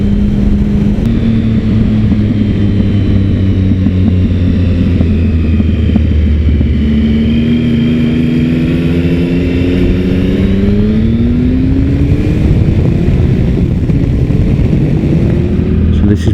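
A motorcycle rides along an open country road in France, its engine droning loudly and steadily throughout, with pitch rising and falling as the rider shifts gears and changes speed, wind noise mixed in close to the microphone.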